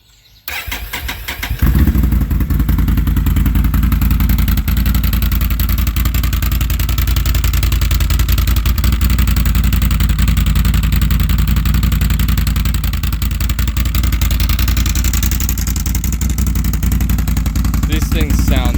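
A 2022 Can-Am Renegade 650 XMR ATV engine cranks and fires, then holds a loud, steady, rumbling idle close by for a long stretch, with some talking over it.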